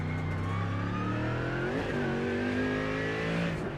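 A GT3 race car driven with aggressive throttle and hard braking: a loud, steady close engine drone with harmonics that hold, then sweep and dip in pitch near the middle as revs fall under braking and pick up again.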